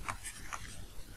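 Pen scratching across paper while a fluid mechanics problem is written out, a brief run of short, soft strokes close to the listener.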